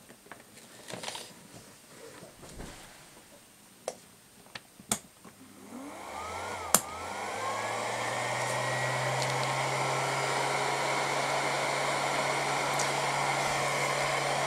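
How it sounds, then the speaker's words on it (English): A heat gun used to shrink tubing on a sea trout fly mount starts up after a few small handling clicks, then spins up into a loud, steady blowing whine and roar that holds continuously. "So I'm just going to turn on this, turn on the heat gun"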